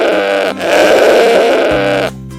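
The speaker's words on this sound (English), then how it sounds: "Little lamb jumping around." A young lamb bleats in one sustained, wavering call, loud and close, lasting about two seconds before cutting off, with no talking.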